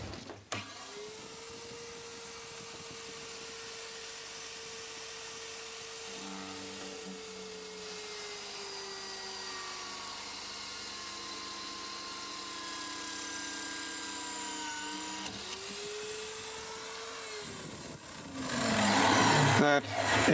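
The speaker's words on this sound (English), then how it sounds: "the ultimate test, of course, is to drill through what no other drill bit can drill through" A drill bit grinds through a hardened Nicholson file rated 68 Rockwell, a sustained whining tone that shifts pitch midway, with a harsher rasp near the end.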